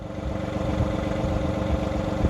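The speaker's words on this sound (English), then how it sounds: "we're going to turn the engine back on" A tractor with a 307B backhoe attached idles at low speed, a steady, even mid-to-low engine rumble with a slight pulsing throb that runs continuously and close by with no talking.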